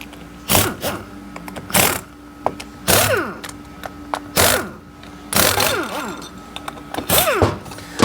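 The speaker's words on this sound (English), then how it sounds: "I dropped my extension, one of my bolts." A socket extension and a bolt dropped while working on a broken AODE 4R70W transmission case, making several loud metallic clanks and rattles in irregular bursts, close by, with no talk.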